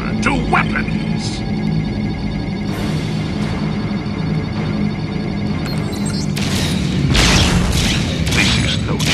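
Starship weapons fire in a Star Trek space combat video game: heavy booming energy blasts and crashing impacts layered over a dense, continuous battle din, with a voice speaking over the action.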